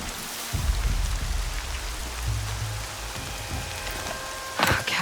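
Rain falls steadily in the video game Horizon Zero Dawn, a constant hiss of drops on surfaces, with low rumbling game sounds underneath and a brief louder splash near the end.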